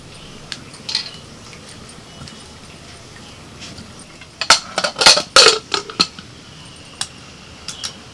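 Whole, washed potatoes dropped into a pressure cooker, a cluster of sharp clinks and thuds against metal, several in quick succession with a few isolated knocks before and after, close and distinct over quiet background.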